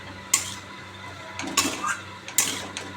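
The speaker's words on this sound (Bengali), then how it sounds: "এবার এটাকে ভালো করে কষাবো" Spices, turmeric, salt and half a tomato being stir-fried in a pan for a catla fish recipe, with three sharp metal spatula scrapes against the pan over a low steady sizzle, no talking.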